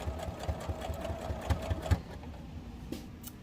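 A sewing machine back stitching across a fabric headband makes a quiet, steady mechanical whir with small rhythmic clicks for about two seconds, then settles into a faint hum.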